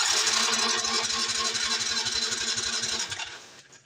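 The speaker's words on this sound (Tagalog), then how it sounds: "kapag dinikit natin tong negative dun sa ating battery aandar yung ating motor" A motorcycle starter motor cranks steadily with a rapid rhythmic whir, close and loud, cutting off near the end. The starter keeps spinning even with the ignition switch off, from a faulty starter relay.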